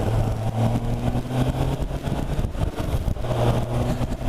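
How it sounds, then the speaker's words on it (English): A smooth engine tuned for low and mid-range torque runs steadily at an even, moderate loudness, a continuous low hum with slight swells and no pauses or talk. "you just cannot help but be impressed by this beautifully smooth engine that is tuned for low and mid-range torque"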